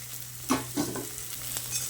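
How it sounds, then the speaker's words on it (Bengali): Potato and spiny gourd (kakrol) frying in a pan without salt, a soft, quiet sizzle with a couple of brief stirring scrapes, heard close and without speech. "আরও কিছুক্ষণ এইভাবে আলু ও কাঁকরোলটাকে ভেজে নিচ্ছি"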